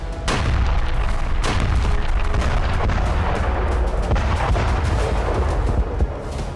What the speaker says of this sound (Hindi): गाजा में इजरायली सेना की बमबारी बहुत तेज हो गई है।